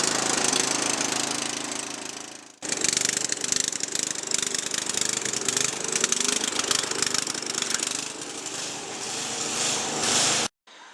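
Small Briggs & Stratton lawn tractor engine, known to run badly, with a fresh spark plug, inline filter and battery: a loud, rough, rattling drone that cuts out briefly, restarts and runs on unevenly before stopping near the end.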